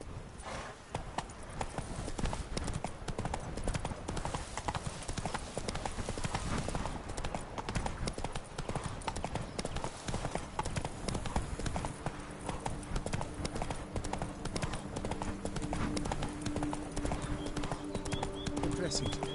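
Roach, Geralt's horse in The Witcher 3: Blood and Wine on PS4, clip-clops in a brisk, continuous gallop close up, with someone talking over the hoofbeats.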